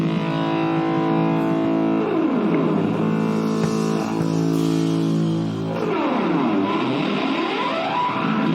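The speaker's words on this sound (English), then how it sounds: "it starts with this like guitar feedback" Sustained, distorted electric guitar feedback opens a live rock performance, with layered droning tones and sweeping pitch bends, loud and continuous with no voices.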